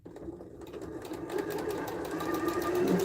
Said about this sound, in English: So back over to the sewing machine.